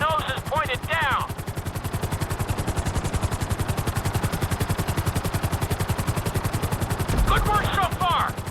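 A helicopter flies during a flight-school lesson in the video game GTA 5, its rotor beating out a fast, steady, loud chop throughout, with brief speech at the start and end.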